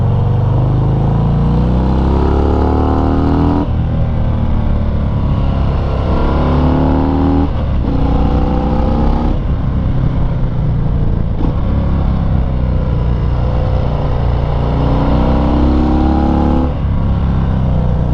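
A Harley-Davidson FXDR 114 motorcycle engine pulls hard out of corners, rising in pitch through several loud, close acceleration pulls with brief dips between shifts, continuous throughout with no talking.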